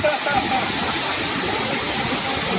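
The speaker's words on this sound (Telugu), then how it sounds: "మొత్తం ఫ్లో అయితే బాగా గట్టిగా వస్తుంది వాటర్ ఫ్లో" Tarabu waterfall, a tall falls in the Andhra Pradesh hills near Vanjangi, flowing strongly with a loud, constant roar of rushing water close at hand.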